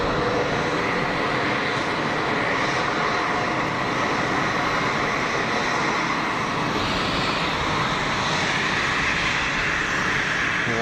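Airliner jet engines spool up before the takeoff roll at Geneva Airport, a loud, continuous broadband roar with a rising whine that stays steady from start to finish.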